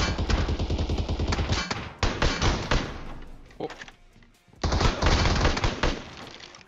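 Dense bursts of automatic gunfire from a PUBG Mobile match, loud and continuous, broken by a short lull before firing resumes in rapid, close volleys.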